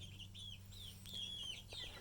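Chickens cluck and make drawn-out calls in a backyard coop built from scrap wood, steady and moderately close over a constant low hum.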